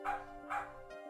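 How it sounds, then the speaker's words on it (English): A dog barks twice in sharp, close bursts, followed by a shorter third yelp, with no talk over it. The sound comes from the video game Apollo Justice Trilogy. "The dog is barking at me."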